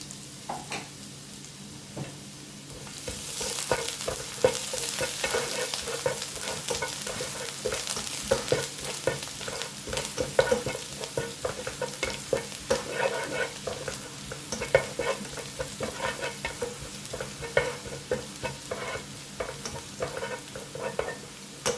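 Chopped onion, crushed ginger and green chilli sizzle steadily in a hot pan, with frequent scraping stirs and clinks of a spoon over a constant frying hiss; no one speaks.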